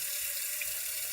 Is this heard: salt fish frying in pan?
no